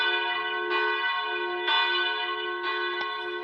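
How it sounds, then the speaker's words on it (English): Church bell chimes ring out in a slow, even sequence of about three or four strokes, each bright tone lingering and overlapping the next, clear and prominent with no talk. "cheers like a chime from church"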